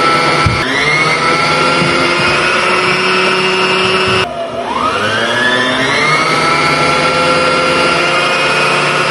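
A sewing machine runs to wind a bobbin with a loud, steady motor whine and many tonal harmonics. Near the middle it briefly dips, then it ramps back up and keeps droning.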